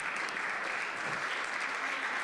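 Medal-winning women players at a Górnik Bytom gala draw a sustained wash of crowd applause, even and moderately loud, with no single voice standing out.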